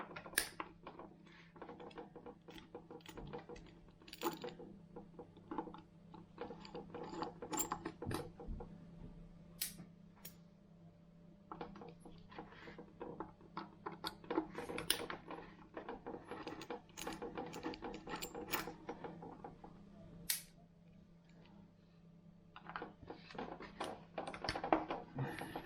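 Screws are worked out of the plastic centre diff case of a Losi RC car, with faint close clicks, ratcheting ticks and small tool taps scattered over a quiet background.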